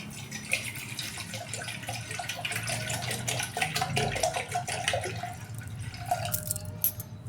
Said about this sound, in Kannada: ಅರ್ಧ ಲೀಟ್ರಷ್ಟು ಬಿಸಿಲರಿ ನೀರು ಹಾಕಾಕತ್ತೀನಿ ರೀ